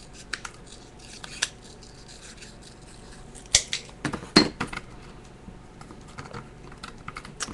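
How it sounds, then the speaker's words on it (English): Paper is fussy cut with scissors in a crafting session, giving a quiet close sequence of irregular snips and clicks, denser in the middle stretch, with no speech. "you will just get to watch me fussy cut very quickly"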